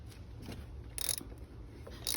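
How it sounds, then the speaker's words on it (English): A filter wrench on the oil filter housing of a 2016 BMW X3 gives a few dry mechanical clicks and a couple of louder ratcheting bursts as it breaks loose, heard up close and quiet with no talking. "We use this filter wrench and break loose this."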